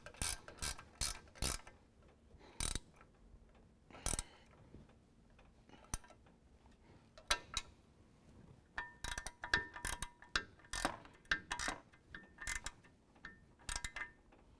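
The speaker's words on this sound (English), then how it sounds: "Now we're going to use a 19 millimeter ratcheting wrench to tighten down our two provided" A 19 mm ratcheting wrench tightens bumper nuts and bolt plates while a Road Armor Stealth Titan II front bumper goes onto a 2017 Chevy Silverado. The clicks come in short irregular bursts, close and fairly quiet, with no talking.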